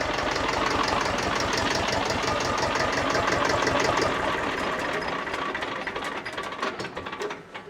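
A Massey tractor engine idles with a rapid, steady knocking chug that loosens and fades toward the end as it winds down.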